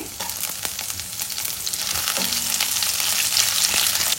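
Chana dal with ginger and chilli pieces fries in a pan, a steady, loud sizzle and crackle with a few stirring scrapes that builds slightly over time, no voices.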